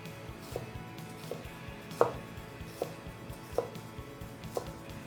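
A Koi Knives gyuto slices through food on a cutting board in a steady series of crisp, evenly spaced thunks, close and fairly quiet, with no talking.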